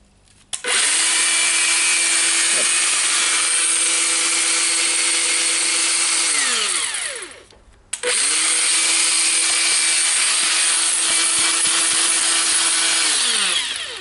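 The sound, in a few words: Makita 18V angle grinder running during test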